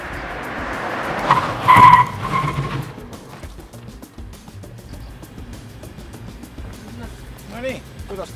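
Car braking hard during a braking distance test, with a loud burst of tire squeal and skidding before the car settles to a low idle. People talk over the rest of it.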